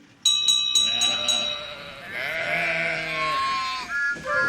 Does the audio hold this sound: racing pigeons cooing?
no